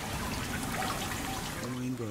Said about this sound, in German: man sieht schon, hier läuft Wasser rein